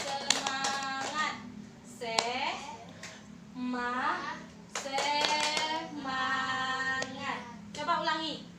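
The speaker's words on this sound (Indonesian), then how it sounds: "coba kita ulang dulu tepuk semangatnya" A school class does rhythmic spirit clapping in bursts of quick, crisp claps, alternating with children and a teacher chanting and speaking between the rounds.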